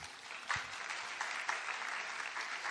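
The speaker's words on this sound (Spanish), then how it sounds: "un aplauso para Rolando" Steady applause from an audience at a Spanish-language leadership talk, dense and even for a few seconds, with no voices on top.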